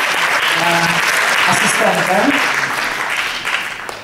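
Audience applause in a hall during a live talk event, loud dense clapping that swells and then slowly fades, with someone speaking over it.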